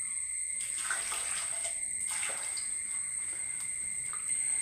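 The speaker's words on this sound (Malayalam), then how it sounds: "അതിനകത്തോട്ട് നമുക്ക് കുറച്ച് വെള്ളം ഒഴിക്കാം." Water poured into a cooking pot holding colocasia, cowpeas and other vegetables, a steady close splashing pour with a few brighter drips, alone with no talk.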